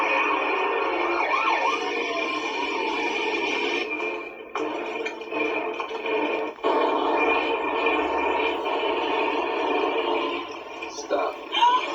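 A wailing electronic siren from a 1/6 scale 1989 Batmobile toy plays continuously with warbling pitch sweeps, fairly loud and tinny, briefly cut off twice, while a person talks faintly underneath.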